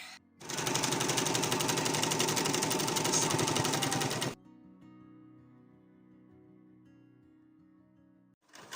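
A loud sewing machine stitches a double hem along the bottom of a sleeveless coat in one close, steady burst of about four seconds, then a low hum lingers before a brief restart.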